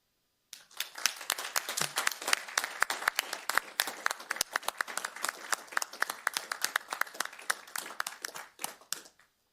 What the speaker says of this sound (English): Please join me in applauding their remarkable achievements